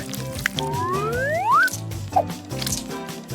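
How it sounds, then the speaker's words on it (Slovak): Gluten-free cranberry jam drops wetly onto a bacon-wrapped potato roll, a soft squish and drip over upbeat background music, followed by a couple of small splats. "Pridajte kvapku brusnicového džemu bez lepku od Duros navrch."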